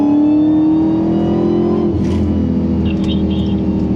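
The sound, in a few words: Dodge Charger Hellcat engine accelerating with loud whine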